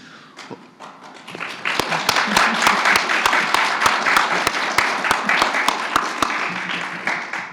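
A seated audience at a panel discussion breaks into applause that swells from a few scattered claps into a steady, close round, with distinct individual claps standing out and some murmuring beneath.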